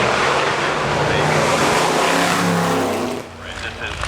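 A Mercedes W163 3-litre Silver Arrows grand prix car roars loudly at a motorsport festival, its engine blaring steadily before the sound drops away, with a voice talking over it.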